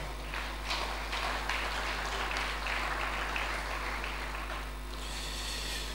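A church congregation applauding together, a continuous close clapping that carries on for several seconds before easing slightly, with a low steady hum underneath.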